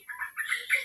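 A chicken clucking up close in a quick, uneven run of short calls, fairly loud and with no talking over it.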